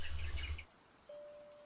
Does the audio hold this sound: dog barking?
no